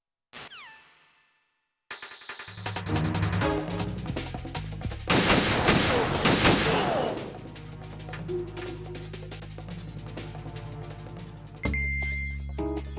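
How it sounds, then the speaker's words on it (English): Gunfire rings out in Metal Gear Solid 2 as a sniper lays down support fire, sustained bursts of shots and impacts over a steady game soundscape, loud and close, with a brief tone cue near the start. "I'll provide support fire from here."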